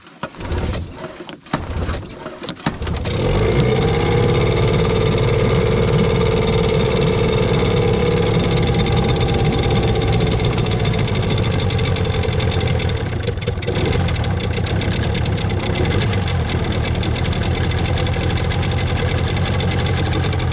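An outboard motor runs steadily on a PND (HDPE) boat, starting after a few seconds of sputtering and then droning loud and constant at close range.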